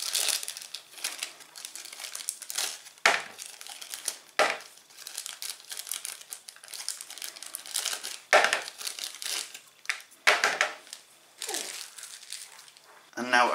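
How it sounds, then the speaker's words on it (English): Dry sphagnum moss cubes rustle and crinkle in short bursts, with crisp crunching handling noises close by and brief pauses between. "You add your cubes of moss,"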